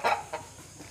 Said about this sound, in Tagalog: So, punta tayo sa mga rooster.